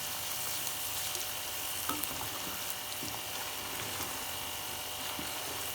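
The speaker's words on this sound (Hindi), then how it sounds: "मसालों को अच्छी तरह भून लेना है।" Spices for beef nihari fry in a pan with a steady, fairly quiet hiss and sizzle, dotted with small crackles and faint stirring scrapes. No voices.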